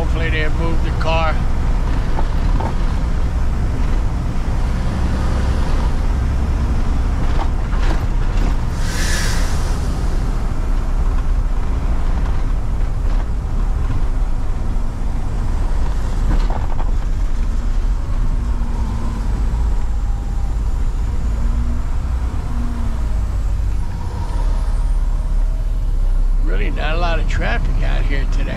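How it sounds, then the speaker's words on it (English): Road traffic rolling past a gas station on a busy town street, a continuous loud rumble of engines and tires that swells as vehicles go by, with talking over it. "Traffic out here today."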